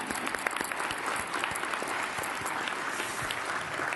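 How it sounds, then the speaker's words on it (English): An audience at a First Lady's luncheon with congressional spouses applauds, many hands clapping in a continuous, fairly loud wash with scattered sharper claps across the whole stretch. "let's give them a round of applause"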